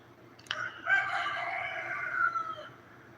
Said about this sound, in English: Y'all hear the roosters crowing?